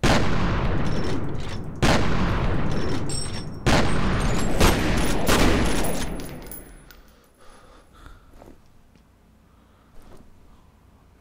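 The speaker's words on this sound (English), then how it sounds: "Gonna have to use this one then. Regular shotgun." Shotgun blasts in the video game F.E.A.R. boom out as loud, dense bursts over the first six seconds, several distinct shots, before the action fades to scattered quieter clatter and small impacts.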